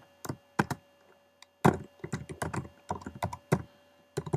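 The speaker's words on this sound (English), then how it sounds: "Excuse my slow typing." Someone types on a computer keyboard in slow, uneven bursts of clicky keystrokes, with short pauses between groups of key presses, close up and alone.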